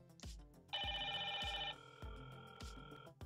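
An indoor Hikvision IP intercom handset rings for a call from the second outdoor door station: a bright sustained electronic tone followed by repeating softer chime pulses, heard up close with no speech.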